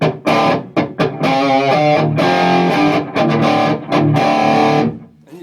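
A distorted electric guitar through a Marshall JCM 2000 TSL tube amp with no effects pedals plays loud, crunchy AC/DC-style chords and riffs with brief pauses between phrases, no voice present.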